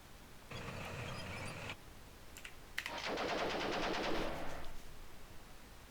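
Bursts of gunfire from the tank combat game Armoured Commander 2 set in the Poland campaign: a sustained crackling volley, a pause with a couple of sharp reports, then a longer rattling burst, moderately loud with no talk.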